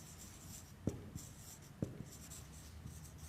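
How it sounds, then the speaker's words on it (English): Pen or chalk writing out new words for an English lesson, a few quiet separate strokes and taps spaced about a second apart against a faint steady background hum. "in the passage there are also some new words I am writing"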